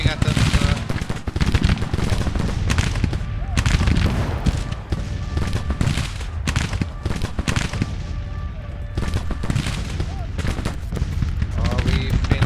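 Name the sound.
gunfire from troops in Grand Tactician video game battle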